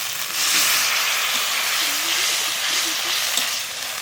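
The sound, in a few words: cumin, coriander and chili paste with water sizzling in crab curry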